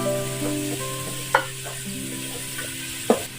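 Garlic and two medium onions sautéing in a pan give a low, continuous sizzle, broken by two sharp utensil clanks and faint stirring scrapes, close up and with no talking.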